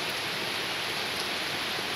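Heavy rain pours steadily at night in Porto Alegre, a dense, even hiss with no pauses and no voices.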